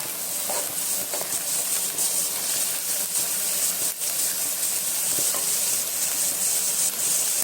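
Liver frying in hot ghee gives a steady, loud, dense sizzle with scattered pops and crackles throughout, and no voices over it.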